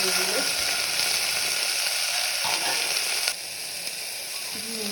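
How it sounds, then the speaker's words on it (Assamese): Onions and broccoli frying in oil in a pressure cooker, a steady close sizzle and hiss with a few scraping stirs, dropping quieter partway through. "নিমখ হালধি দি অকণমান সময় এনেকৈ ভাজি লৈছোঁ দেই।"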